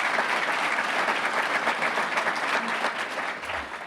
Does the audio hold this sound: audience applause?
yes